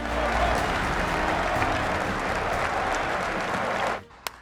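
A football stadium crowd applauds as an injured player is carried off, a dense sustained roar of clapping that fades out abruptly near the end, leaving a single sharp tap.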